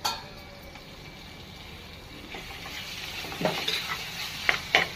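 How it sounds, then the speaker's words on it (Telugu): Meat is stirred into a fried mixture in a pan for fish curry. A soft, hissing sizzle builds slowly, and near the end come a few louder scrapes and clinks from the stirring. "మీట్ని మనం ఇందులో వేసుకొని ఈ ఫ్రై అయిన నీట్గా కలిపేసుకోవాలి"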